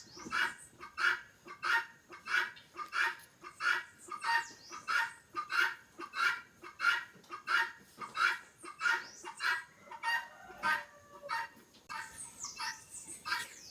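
Guinea fowl calling in a steady, rapid series of harsh, rhythmic cries, about two per second, loud and close, with a few scattered shriller calls toward the end and no talk.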